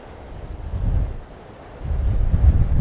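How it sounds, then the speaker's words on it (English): Strong outdoor wind buffeting the microphone, low rumbling gusts that swell, ease off briefly, then surge louder again. "with the wind blowing, and this wind is really blowing me around"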